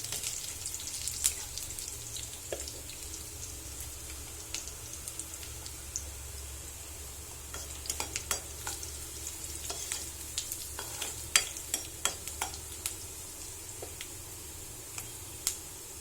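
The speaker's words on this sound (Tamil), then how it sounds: "வெங்காயம் கொஞ்சம் பொன்னிறமாக ஆயிடுச்சு" Onions fry in a pan for a dry fish gravy while a spoon stirs them, giving a steady soft sizzle broken by scattered scraping clicks and wet taps, close and alone without talk.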